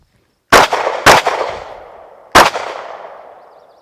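Three loud gunshots during target shooting practice, two in quick succession and a third after a pause, each sharp crack trailing off in a long echoing decay.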